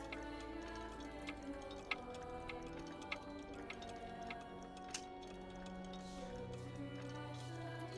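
A clock ticks in RuneScape with a steady, quiet tick-tock about once a second, set against a soft background hum and in-game music.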